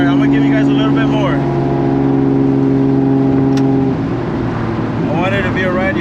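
A street-driven Toyota Supra tuned past 1000 horsepower holds a loud, steady engine drone that shifts down partway through, with people talking over it at the start and end.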